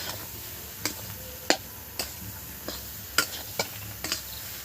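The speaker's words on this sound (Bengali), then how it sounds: "এইভাবে নাড়তে হবে দেখুন" Chana dal fry being stirred in a pan, a soft background sizzle punctuated by about eight sharp spoon clicks against the pan at an irregular, unhurried rhythm.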